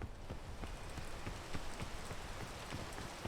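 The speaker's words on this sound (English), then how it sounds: "Okay, I can't look, it's raining." Rain falls steadily in the video game Hello Kitty Cafe Tycoon, a continuous patter with distinct drops tapping on a surface, heard alone at a low level.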